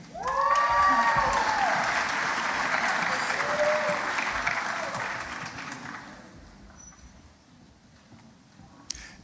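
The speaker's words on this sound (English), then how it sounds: "Let's give them all a round of applause" Sustained applause from an audience at a university graduate commencement ceremony in a concert hall, loud and dense at first, then thinning and fading over the last few seconds into a quiet hall.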